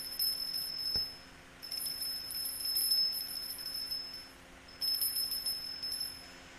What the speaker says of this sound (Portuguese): Esse som aqui, ó, é de um sininho